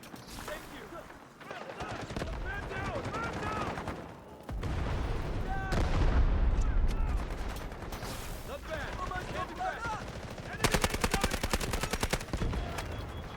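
Gunfire in the Delta Force video game: sustained rapid automatic bursts and mechanical clatter fill the whole stretch, loud and close, with a player's voice talking over parts of it.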